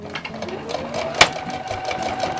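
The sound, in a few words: sewing machine stitching fabric for an apron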